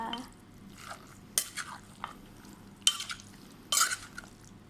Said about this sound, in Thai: เอาทัพพีมา คลุกคลุก ทัพพีมาคลุกเลยนะคะ